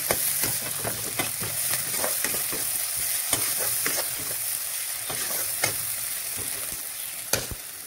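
Cauliflower frying with salt in a pan while being stirred, giving a constant close sizzle punctuated by frequent sharp scrapes and taps of the spoon against the pan.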